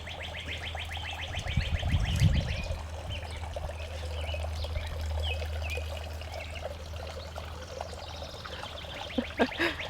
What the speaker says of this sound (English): Time for her morning coffee, aka the alfresco fountain from Henry's studio.